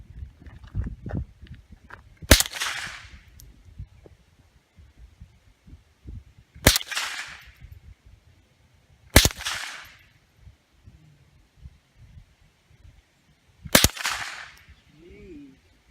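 Four sharp gunshots from a teen's firearm at shooting practice, spaced several seconds apart, each a loud crack with a short decaying tail over quiet outdoor background.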